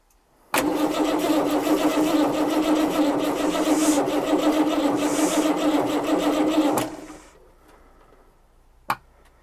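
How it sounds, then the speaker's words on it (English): An abandoned Dodge truck left for 28 years cranks on its starter motor and catches, a loud steady close engine roar running about six seconds before cutting off, then quiet with one sharp click. "The starter motor the ignition switch has started working."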